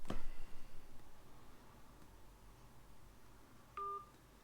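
Telephone keypad dialing tones: a burst of quick beeps at the start, then quiet line hiss, then one more short, clear tone near the end, with no voices.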